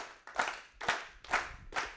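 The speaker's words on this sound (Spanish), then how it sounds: "intentar aplaudir y sincronizaros" A lecture audience of around fifty people claps together in a physics class, the claps bunching into four loud bursts that fall into a steady, roughly synchronized rhythm.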